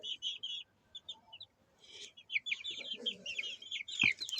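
A brood of eleven chicks peeps in quick, high chirping bursts close by, their calls overlapping and continuing, with soft rustling underneath.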